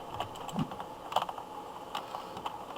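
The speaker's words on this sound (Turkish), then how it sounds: "Klavye sapıttı." Computer keyboard keys clack in a quick irregular run of close, crisp taps during a Counter-Strike 1.6 session, with no talk in the moment.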